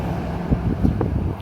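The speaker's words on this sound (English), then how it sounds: "Apologies for the road noise." Steady road traffic from a highway passing right beside a workshop, a continuous low rumble with faint swells of passing vehicles and some wind.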